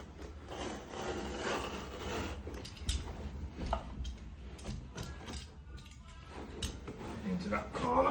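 A blade trims a wool carpet along a line at a wall edge, giving soft intermittent scraping and rubbing strokes, close up, with someone talking over much of it.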